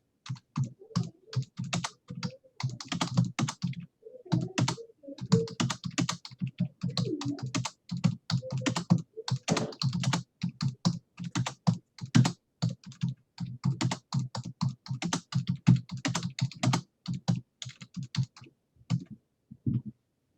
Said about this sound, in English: Now, I'm just gonna type.